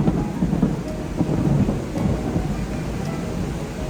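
Heavy rain pours steadily with deep thunder rumbling underneath, a dense, continuous storm wash without voices.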